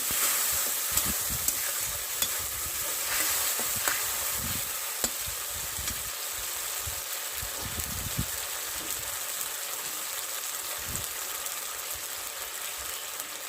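Tomato paste goes into a hot pan and sizzles steadily while being stirred, with faint scraping clicks from the utensil throughout and no talking.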